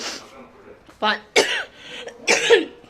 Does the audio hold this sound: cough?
yes